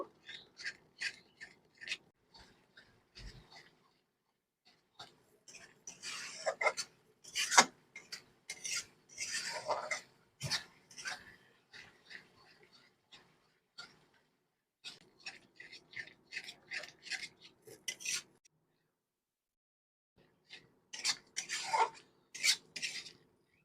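A spoon scrapes and stirs fish curry ingredients for katla fish kosha in a pan over low to medium flame, giving soft rasping strokes in irregular bursts with quiet gaps between them.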